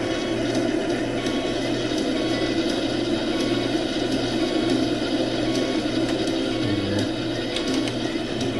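Seed planter motor on a farm running steadily with a low mechanical drone and light ratcheting, gear-like clatter, continuous and fairly loud throughout with no talking.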